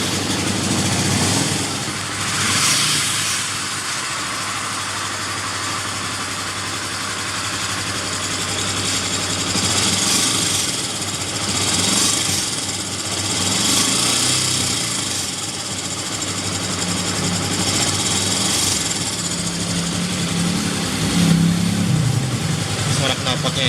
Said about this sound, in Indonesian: Mari kita dengarkan ya untuk suara mesinnya dan knalpotnya yang ori.